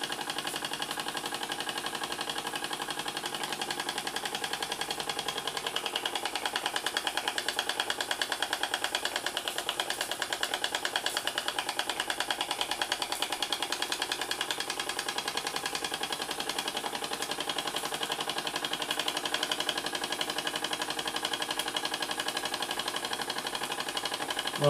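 Two mechanisms run together on a small model steam engine, giving a continuous busy mechanical chatter and rapid ticking hum at steady level throughout, with no voices.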